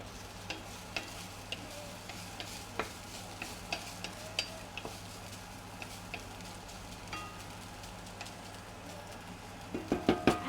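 Onions for Greek moussaka fry in a pan with a quiet, steady sizzle, broken by soft ticks and taps of stirring that grow into a few louder clatters near the end.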